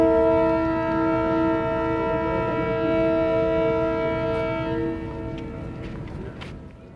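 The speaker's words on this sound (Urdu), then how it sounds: "آئیے ریل گاڑی میں بیٹھیں اور کوئٹے سے کلکتے تک چلیں۔" A train sounds a long, steady horn over its running rumble, loud and sustained before fading somewhat toward the end, with no talking.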